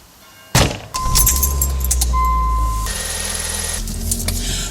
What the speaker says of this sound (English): Okay, we're getting in the car.